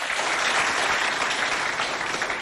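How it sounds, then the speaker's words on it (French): An audience at a Chad provincial school poetry contest applauds for Doba, a dense, steady wash of clapping filling the whole stretch without a break. "Applaudissez pour Doba, s'il vous plaît."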